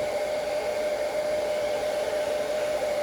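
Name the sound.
heat gun shrinking heat-shrink tubing on motorcycle blinker wires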